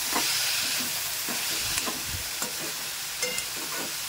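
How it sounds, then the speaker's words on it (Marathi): Moringa drumstick pods fry in a pan with a steady, loud sizzle throughout, broken by a few soft scrapes and taps as they are stirred, close up with no talking. "आपले शेंगा चांगल्या प्रकारे फ्राय झालेले आहेत"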